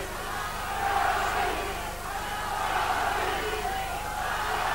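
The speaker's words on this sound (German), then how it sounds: "3000 Zuschauer machen die Halle zeitweise zu einem Hexenkessel." A crowd of 3000 spectators roars at a 1979/80 wrestling final between KSV Witten and AV Reilingen in an indoor hall, a dense, steady wash of cheering and shouting that swells and holds throughout.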